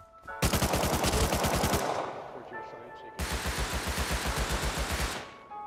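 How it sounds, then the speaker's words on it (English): Rapid automatic gunfire from the video game Rust comes in two long, loud bursts of fast regular shots with a short pause between them. "He's shooting through the window."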